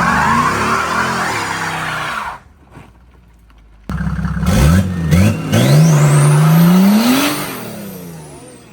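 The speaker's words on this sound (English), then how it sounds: "So let's see how many of them can still do a burnout." Mercedes diesel car doing a burnout, engine building boost with a loud wastegate, revs rising and falling then a long sustained high-rev howl with tire squeal, brief drop near the middle before the loud burnout resumes.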